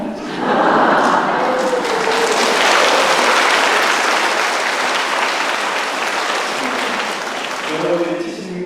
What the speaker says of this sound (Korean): 여러분들이 치신 박수가 격려와 위로에 용기를 내는 그런 박수가 생각을 합니다